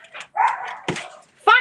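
A dog barks indoors near seedlings under red grow lights, giving a few short, close barks and yips mixed with brief whining sounds.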